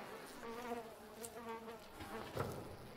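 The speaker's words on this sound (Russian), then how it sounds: "А затем появляются мошкара, личинки и мухи." Flies buzz steadily and close by in a dramatic film scene about decay, a continuous droning whine with no speech over it.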